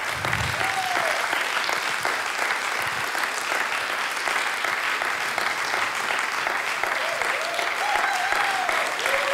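Sustained audience applause fills a church hall, steady dense clapping from a large crowd with faint voices beneath.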